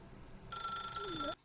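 A telephone rings with a bright electronic trill for almost a second, cutting off abruptly, with faint voice-like sounds underneath.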